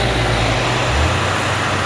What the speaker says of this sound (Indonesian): Masuk truk tangki.